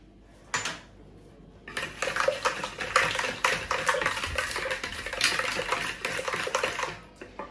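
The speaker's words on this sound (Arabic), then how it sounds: "دابا البنات غادي نحرك كلشي مزيان كما كتشوفوا" A spoon clatters and scrapes rhythmically against a bowl as dough ingredients, eggs and yolks among them, are stirred for moist buns. The busy, close clinking runs continuously after a single opening knock.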